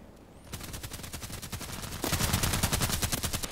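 Rapid automatic gunfire in a sniper video game, a fast steady stream of shots that swells louder about halfway through, with no talking.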